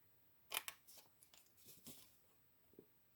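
Scissors cutting card for a handmade birthday card, a few crisp snipping strokes close up and quiet, one sharp cut followed by several softer slicing snips.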